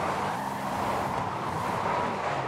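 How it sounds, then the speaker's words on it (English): Lamborghini Gallardo engine in the Forza Horizon 5 racing game, a steady loud drone of a driven car holding a continuous roar throughout, with no speech over it. "I just had a Lamborghini Gallardo."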